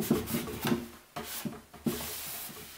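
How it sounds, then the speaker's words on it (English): A dry cloth rubs wax over a chalk-painted wooden surface to buff up a sheen, giving close, soft swishing strokes in a few quick bursts with short pauses between them. "come back with another dry cloth and just kind of rub it"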